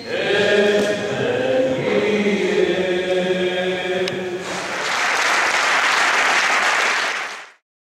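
An audience breaks into applause for a host at an event, a burst of clapping that swells and holds for a few seconds before stopping abruptly, following a stretch of background talk.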